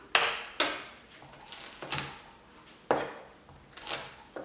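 Shallots and garlic crushed on a wooden cutting board with a knife or cleaver, about six sharp, spaced thumps and smacks at an irregular pace, close and clear with no talking.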